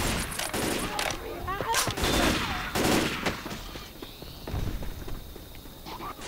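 Dense gunfire in the Left 4 Dead 2 video game, with rapid overlapping shots and bursts, loud and close, under a busy mix of game action.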